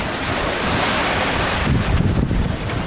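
Following sea on a sailboat in the Pacific: a constant wash of waves and surf under heavy wind buffeting the microphone, loud and close, swelling a little stronger toward the end.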